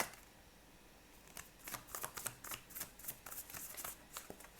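Tarot cards shuffled by hand before an animal spirit card is pulled, a quiet riffle of crisp papery flicks that starts after a near-silent second and carries on in bursts to the end.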